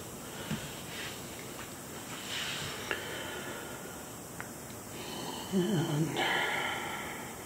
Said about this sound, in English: There's a puppy in here in the studio with me. She's decided to snore.